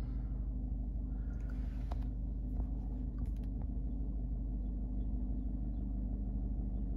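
A Peugeot 3008 diesel sits idling after a restart, a steady low engine rumble that holds even and close throughout, with a few faint clicks near the start.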